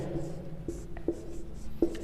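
Pen or chalk writing Sanskrit script, soft scratchy strokes with a few sharper taps, close and moderately quiet, with faint background tone and no clear speech.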